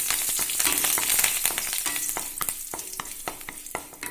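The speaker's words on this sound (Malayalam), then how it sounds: "കടുക് പൊട്ടി കഴിഞ്ഞ് അതിൽ കുറച്ച് കറിവേപ്പില ചേർത്ത് കൊടുക്കാം." Curry leaves hit hot oil with popped mustard seeds for a puffed rice mixture, giving a dense, bright sizzle broken by sharp crackling pops that thin out toward the end.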